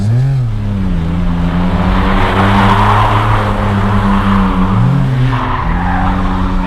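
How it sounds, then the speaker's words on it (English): A drift car held sideways in second gear, its engine droning loud and steady with a pitch that dips and climbs as the clutch is kicked mid-transition, tires squealing continuously underneath. "right there, I just did a mid-transition clutch kick just to keep it sideways"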